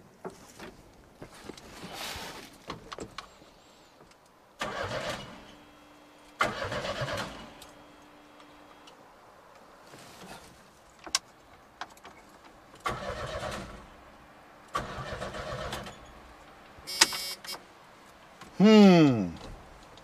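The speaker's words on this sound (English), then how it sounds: "Yeah, this thing will hit when you let off the key, try to crank it with a screwdriver, jump it over the starter, it does the same thing." An abandoned Chevy S10 pickup in a junkyard cranks in repeated bursts of starter churning, several separate attempts with pauses between them, close by, with people talking in between.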